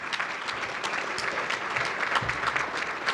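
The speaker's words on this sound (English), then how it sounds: "how about a round of applause for putting this all together?" Audience applause at a city's State of the City address, steady dense clapping throughout, moderately loud and continuous without talk.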